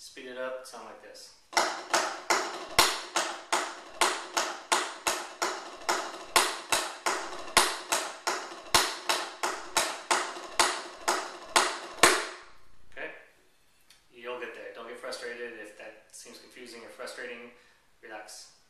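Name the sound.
drum rudiment paradiddle-diddles played faster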